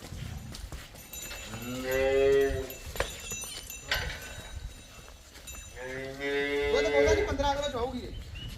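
Two long, deep cow moos a few seconds apart, fairly close, with light farmyard clatter and murmuring in between.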